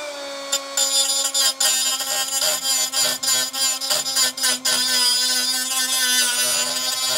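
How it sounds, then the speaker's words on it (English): A power tool cuts out a tiny spot weld on the body of an A112 Abarth car, a steady high-pitched whine with a run of sharp, rapid grinding bursts in the middle before settling back to a constant drone. "It is just the world's most tiniest spot weld that I need to cut out"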